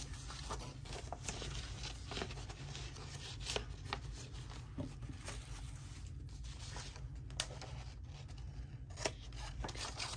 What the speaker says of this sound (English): Snip here. A little snip there.